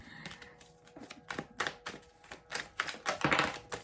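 Deck of tarot cards being shuffled by hand, a rapid series of soft riffling taps and flicks in irregular bursts, close and fairly quiet, with no talking.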